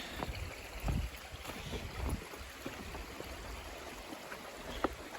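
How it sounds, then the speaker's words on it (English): A small river flows steadily along a trail in the woods, making a soft, constant rushing wash with faint low thumps. The water sounds quiet and a little distant, and there is no speech. "It's a nice little river."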